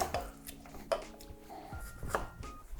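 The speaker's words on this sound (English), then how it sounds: "We're gonna give this a light muddle, just to kind of release the aromatics here." Basil leaves muddled with simple syrup in a metal cocktail tin, several dull thuds and light knocks in a quiet, irregular rhythm, close up with no talking.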